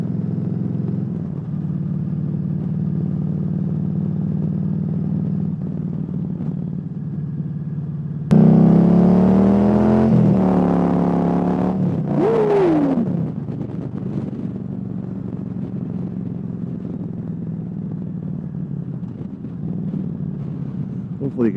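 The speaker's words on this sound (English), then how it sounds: "Hopefully you can still hear the motor." Motorcycle engine drones steadily while riding, with muffled wind rumble throughout and a louder section where a voice speaks over the engine before the hum settles back.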